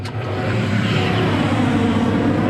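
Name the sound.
combine harvester engine running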